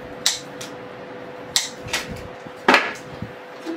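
Scissors or wire cutters dropped onto a table during floral arranging: a few sharp, separate clattering bangs spread over a few seconds, close by and fairly loud in a quiet room.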